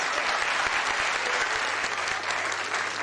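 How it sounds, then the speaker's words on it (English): Applause from a school audience, a steady dense patter of many clapping hands sustained evenly throughout, close and fairly loud. "Give the boy applause."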